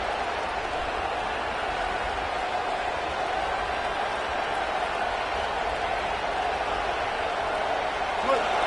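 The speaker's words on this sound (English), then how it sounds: "This crowd trying to make life miserable for this offense." A steady, dense roar rises from the stadium crowd in an NCAA college football video game with Tennessee hosting Arkansas, holding constant and loud throughout with no breaks.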